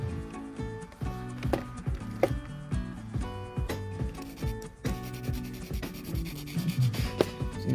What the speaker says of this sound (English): I'm using the 180 grit file with the fantastic file attached